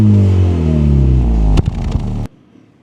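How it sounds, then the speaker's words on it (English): Honda Civic Type R triple exhaust revving loud and close, engine note falling as it settles, a few sharp blips near the end before cutting to near silence. "These three here represent a triple exhaust sound system"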